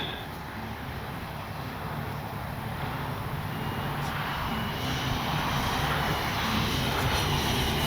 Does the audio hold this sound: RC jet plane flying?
yes